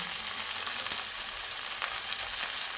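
Chopped susni greens frying in a pan with salt and turmeric, producing a continuous moderate sizzle with faint occasional stirring, no talking.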